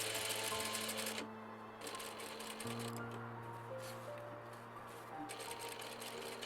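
Domestic sewing machine stitching bias tape onto a wrap dress, a close, steady mechanical whir with rapid needle clatter that pauses briefly and restarts at a slightly different pitch, heard alone at low volume.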